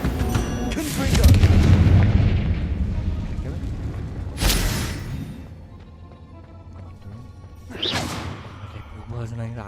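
Confringo fire-blast spells exploding in Hogwarts Legacy, three heavy booming blasts with rushing whooshes spaced a few seconds apart, loud and close over game sounds, with a player's voice talking.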